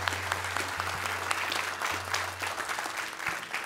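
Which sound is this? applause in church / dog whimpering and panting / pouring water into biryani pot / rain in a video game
applause in church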